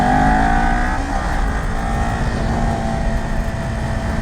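A Kawasaki Ninja 400 motorcycle rides along a highway, its engine a loud, steady drone with a falling pitch early on, mixed with heavy wind rush close to the rider.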